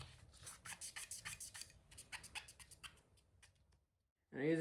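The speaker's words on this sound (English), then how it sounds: "I usually grab my rag, kind of run it in there as well" A cloth rag is rubbed and pushed around inside a Beretta APX pistol during cleaning, giving close, repeated scrubbing strokes for about four seconds, then a pause and a short burst of voice at the end.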